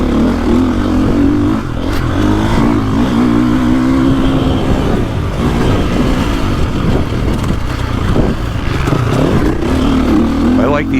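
A 2024.5 KTM 450 Factory Edition motocross bike accelerating on a motocross track, its engine note rising and falling in strong revving pulls, loud and close, with a voice talking over parts of it.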